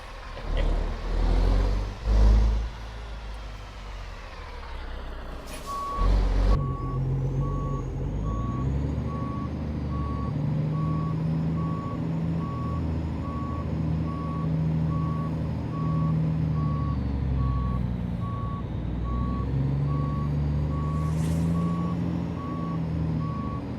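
A Kenworth W900 truck in American Truck Simulator backs up with evenly spaced electronic reversing beeps that repeat steadily over a low engine rumble. A few heavier knocks come before the beeping starts.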